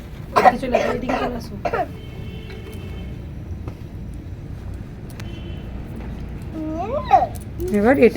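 Coughing from wood-fire smoke beside a wood-burning stove where loitta fish paturi is cooking on a winter day, a few harsh bursts early and more near the end, with voices and low background noise.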